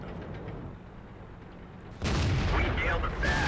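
A tank cannon in World of Tanks fires with a sudden heavy boom, following a stretch of low rumbling battle ambience; a single close, loud blast with some voice-like sound after it.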